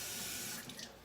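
Tap water runs steadily into a pot in a kitchen, a soft continuous splashing hiss that thins out toward the end.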